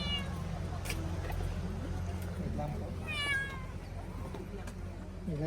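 A cat brought along by its owner meows several times in short, rising cries, clear and close, interleaved with people chatting and greeting nearby.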